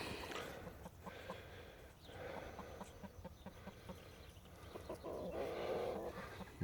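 Newly arrived laying hens with no rooster cluck softly and continuously, faint and slightly distant, with low snorting chatter under a steady background.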